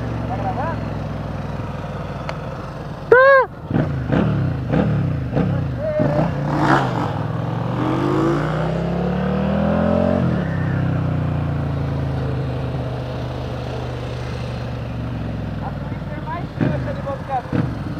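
A Honda Twister 250cc motorcycle starts with a sharp crank and rises into rough revving and a steady idle, while voices talk loudly over the engine nearby.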